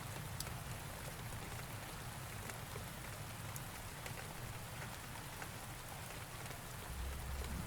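Steady rain falls continuously in a dense, even hiss, with occasional individual drops pattering out at a soft, distant level and no voices.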